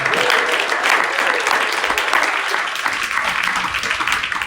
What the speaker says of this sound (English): Yeah, give them a clap up, y'all.